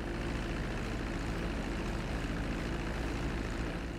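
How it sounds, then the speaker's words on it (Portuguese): A propeller airplane's engine in GTA V drones steadily and continuously, close and even, with no talk over it. "pilotando esse treco aqui, esse avião"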